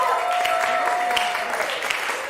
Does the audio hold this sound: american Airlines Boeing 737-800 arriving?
no